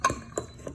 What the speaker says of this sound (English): And we just gonna mix it.